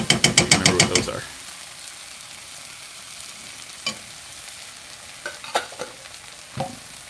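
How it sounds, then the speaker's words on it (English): Black Korean bean paste stir-fried in a pan, opening with a quick run of rapid scraping clatters, then settling into a low steady sizzle broken by a few sharp spatula knocks, close and fairly loud, with no talk. "So I like stir frying the bean paste and stuff like that a little bit on the heat"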